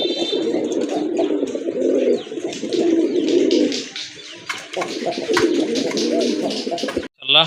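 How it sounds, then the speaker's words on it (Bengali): Several domestic desi pigeons coo close by in repeated low, throaty rolling phrases with short pauses between them, along with a few faint chirps, without any speech. "এটা হচ্ছে অরিজিনালি দেশি কবুতর"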